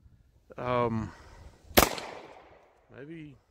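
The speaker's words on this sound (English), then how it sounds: "Let's just keep shooting." A single sharp, loud gunshot from a Taurus TH9 9mm pistol at a shooting range, with a short ringing tail, framed by a voice talking before and after.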